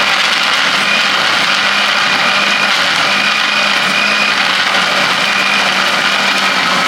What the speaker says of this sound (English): those pieces of ice being chopped up, and when the sound changes, you can tell that then the blender has done its job